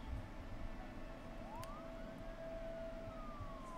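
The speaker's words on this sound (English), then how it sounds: "That's an ambulance." Ambulance siren in the SimCity city-building game, a steady wailing tone rising and sweeping over a constant low rumble of city ambience, fairly faint and continuous without speech.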